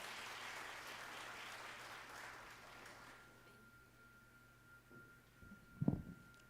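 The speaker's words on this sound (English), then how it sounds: "will you please give Brian Miller a round of applause?" Applause at a town hall meeting for a Freedom School, a broad steady wash from the audience that fades after a few seconds, followed by quieter room noise and a brief louder knock near the end.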